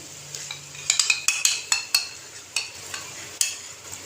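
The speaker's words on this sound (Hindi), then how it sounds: "इसको हम दही डाल के अच्छे से हमने भून लेना है" Masala for baingan masala being fried with yogurt and chaat masala, heard as a series of sharp, regular spoon scrapes and taps against the pan over a faint sizzle, close up and without speech.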